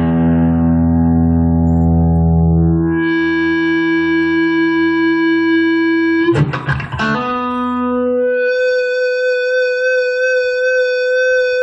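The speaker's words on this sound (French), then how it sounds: "Vous avez peut-être entendu tout à l'heure aussi un simulateur de Larsen" A guitar feedback simulator pedal, a digital effects pedal, produces loud sustained howling tones that shift pitch, broken by a short burst of noisy guitar attack, then settle into a new steady feedback whine.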